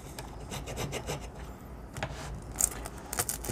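A knife saws through an extra-large Bella Napoli pizza on a small wooden board, giving a faint, repeated rasping and rubbing crunch with short pauses between strokes, close by and without talk.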